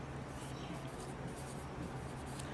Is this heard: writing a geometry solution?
yes